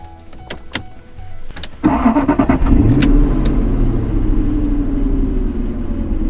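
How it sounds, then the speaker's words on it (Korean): A classic Jaguar XJ engine cranks with a few clicks, then roars to life and settles into a loud, steady, deep rumbling idle up close. "굉장한 마력과 CC가 있기 때문에 한번 시동 소리도 한번 들어보겠습니다"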